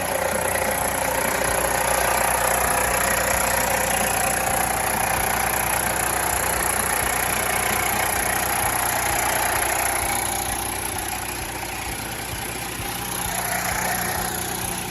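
A large roll-up door's motor and chain drive running continuously, a steady mechanical drone with a rattling, grinding texture and a high whine, fairly loud with no pauses.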